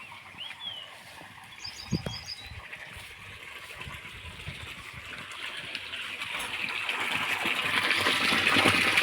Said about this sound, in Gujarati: પાઇપ તૂટી ગઈ છે તો પાણી અહીંયા નીકળી ગયું